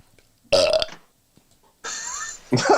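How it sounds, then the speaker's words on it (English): A person lets out several burps in quick succession, a loud croaking belch followed by a short gap and then two more close-up eructations. "How'd you burp at every single moment like that?"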